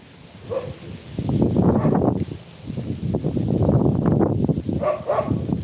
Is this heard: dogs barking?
yes